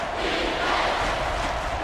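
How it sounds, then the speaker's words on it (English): Dense, sustained roar of a football stadium crowd at a college game between Alabama and Florida State, loud and uniform for the brief moment without any clear individual voices. "This crowd is energetic, and they'd really love to see a stop right here."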